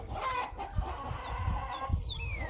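Chickens cluck and murmur nearby, with soft low thumps and a few higher calls in the background.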